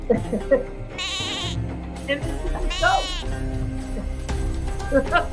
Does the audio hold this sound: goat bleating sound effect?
yes